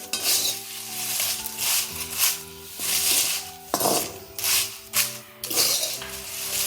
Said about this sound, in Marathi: छान गरम करून घ्यायचं आपल्याला त्याला सतत हलवत